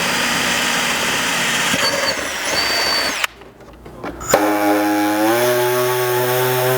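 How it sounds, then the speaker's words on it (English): Power saw cutting along marked lines in a plastic floor panel for a Jeep JKU Wrangler modular floor, a loud steady whine broken by a brief pause, then resuming with a rising pitched tone. "it's just a matter of tracing out the lines with your saw or your cutting device"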